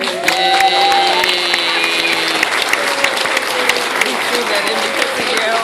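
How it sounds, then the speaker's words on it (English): Applause from a school audience welcoming the Bulldog Band, with a crowd clapping steadily and close by for the whole stretch while a few voices and cheers mix in over the top. "Let's have a round of applause for them."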